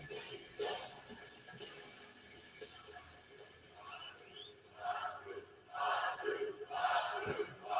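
A wrestling crowd at a SmackDown event cheers and yells in swelling bursts, fairly distant and rising toward the end, with some talk underneath.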